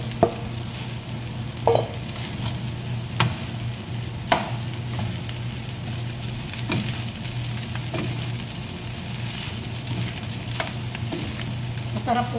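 Leftover rice is stir-fried with egg and shredded dried fish, a steady close sizzle broken by intermittent scraping and clacking of the spatula against the pan, with no talking.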